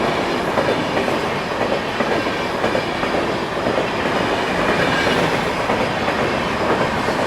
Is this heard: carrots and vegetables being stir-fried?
no